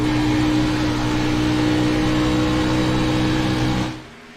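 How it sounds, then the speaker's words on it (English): A race car at Dover International Speedway holds a steady, loud engine drone on careful throttle through a corner, then the sound drops away abruptly near the end. "You can just hear how careful he has to be on this throttle, especially apex off."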